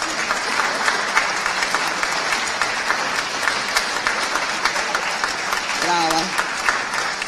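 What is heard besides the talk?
audience applause for the young Marchesi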